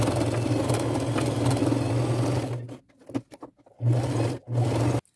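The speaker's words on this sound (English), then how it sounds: "I'll finish sewing 1/4 inch seam allowance across that end, pivot in my machine, and go all along the bottom and end here" A sewing machine stitches a quarter-inch seam along a drawstring purse, its steady motor whir running continuously before breaking into short stop-start bursts and pauses.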